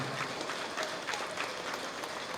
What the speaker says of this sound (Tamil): உங்களுடைய பலத்த கைத்தட்டல் மூலம், பலமாக கைத்தட்டினா நல்லா இருக்க